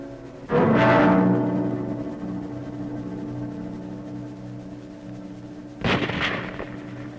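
Two heavy gunshots crack out in a 1944 wartime jungle combat film, the first loud blast trailing a long echoing ring and a second report arriving near the end, both over a steady background hum.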